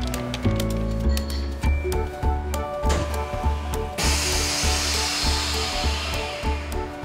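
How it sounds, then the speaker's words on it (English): A vacuum sealer machine packing pork chops runs with a steady mechanical hum and rhythmic pumping pulses, then a loud hiss of air releasing near the end. "And then we will vacuum pack it."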